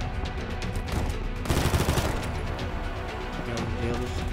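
Rapid automatic gunfire in the video game Combat Master, dense overlapping bursts of shots that swell in the middle and keep rattling continuously, fairly loud and close.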